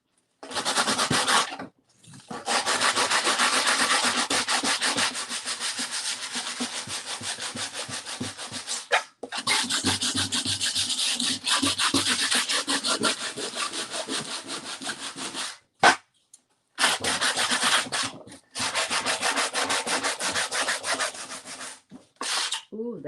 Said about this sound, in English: This is a nice rough sandpaper. I'm going to scuff her up a little bit